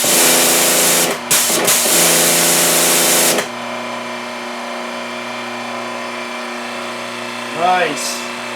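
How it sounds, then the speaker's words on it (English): Pressure washer at a garage car wash station, a loud, steady hiss and motor drone close by that cuts out after a few seconds, leaving a quieter hum; a voice speaks briefly near the end. "And then we'll turn the pressure washer on."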